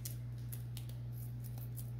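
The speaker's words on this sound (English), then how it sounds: "I need to clean my scissors because they're sticking." Sticking scissors snipping through tape in a series of quick, faint cuts over a steady low electrical hum.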